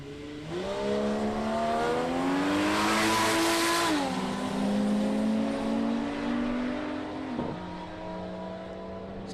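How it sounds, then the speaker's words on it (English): A 6-cylinder Ford Cortina drag racer roars down the strip at Palmyra Raceway, its engine climbing steadily through the gears with a loud, sustained howl, then easing off as it passes, with no talk over it. "6-cylinder powered Cortina."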